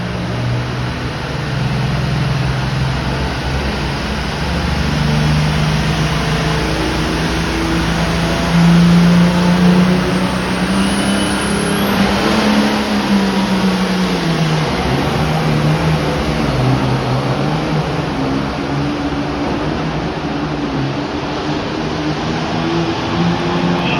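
An International 1066 tractor in a modified tractor pull roars under sustained heavy load, a loud continuous engine drone that swells slightly midway, heard from the stands with no other sound standing out.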